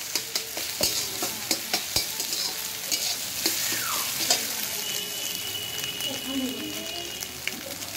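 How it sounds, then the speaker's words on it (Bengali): Egg frying in a pan and being broken into crumbly scrambled bits with a spatula, giving a steady soft sizzle punctuated by sharp scraping taps of the spatula against the pan, close and moderately loud. "খুন্তি দিয়ে আপনারা এরকম ভেঙে নেবেন, ঝুড়ো ঝুড়ো করে নেবেন।"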